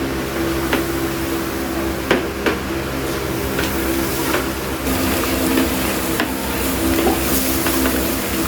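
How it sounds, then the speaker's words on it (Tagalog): Homemade unscented dishwashing liquid with thickener is stirred slowly, giving a continuous wet swishing with occasional soft clinks against the container over a steady background hum, and no talking. "Haluin po natin ito ng mabagal."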